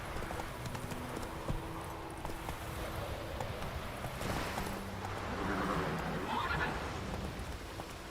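A horse gallops with quick rhythmic clip-clop hoofbeats and a whinny in The Witcher 3: Wild Hunt video game, steady and moderately faint, with brief voice in the background.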